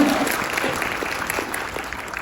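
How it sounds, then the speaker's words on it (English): A conference audience claps in a steady, moderately loud wash of applause, individual hand claps blending into a continuous crowd sound for a couple of seconds. "Can you give me some big applause?"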